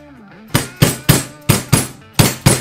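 Seven sharp, loud hammer strikes in quick succession, each ringing briefly before the next, close and clear, during work on a Desert Sled motorcycle's fork brace.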